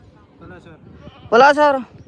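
A single loud goat bleat rings out close by near the end, following brief low speech from people talking at a goat market in Dhanaula.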